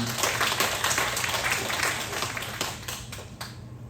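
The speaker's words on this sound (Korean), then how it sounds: "박수로 한번 환영하겠습니다." A church congregation at Sunday worship claps to welcome visitors, a dense, even wash of many hands that stays strong for most of the span and then thins out near the end.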